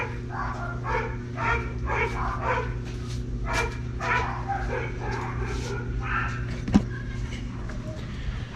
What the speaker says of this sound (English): Sorry, the dogs were barking.